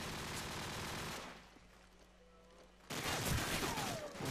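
Pistol and rifle fire in a competitive esports shooter match, a Desert Eagle with a scope among the weapons, heard as dense bursts of loud shots that drop away briefly and then return even louder.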